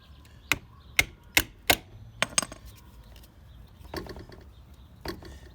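Prying at a metal retaining clip on the front wheel of a Honda Bali scooter: a handful of sharp metallic clicks and snaps close up, then quieter scraping and rattling, with no talking.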